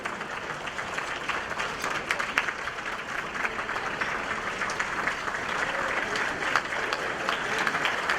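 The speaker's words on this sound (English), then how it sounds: "please stand so that way we can clap for you." Even, continuous applause from a seated crowd at an NAACP Freedom Fund anniversary gala dinner in Syracuse, a dense patter of many hands heard from some distance at moderate volume, steady throughout.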